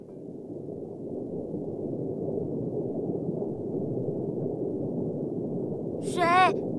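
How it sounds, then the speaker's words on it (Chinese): Low rumbling underwater ocean ambience resembling a growling stomach, a steady murky drone throughout with a brief wavering tonal call rising near the end. "我们现在听见像肚子饿的咕噜声，是海里面的声音哦"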